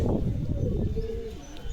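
Pigeon cooing: a low, throaty run of coos from a large male pigeon with clipped wings, held in hand or loft, brief, close and moderately loud, with no talk over it.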